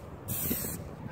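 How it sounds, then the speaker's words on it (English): An aerosol can of spray paint sprays in one steady hiss lasting about half a second, close and fairly loud, used while painting a homemade offroad snorkel. "So now if you use spray paint, definitely watch out for overspray."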